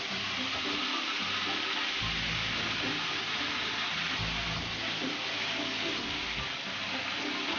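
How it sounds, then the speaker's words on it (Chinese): A fish head fries over high heat in an iron wok, giving a steady, dense oil sizzle with occasional low rumbles from the pan being shaken, continuous and close with no talking. "这一步主要是先把鱼头煎香，煎的时候尽量保持大火"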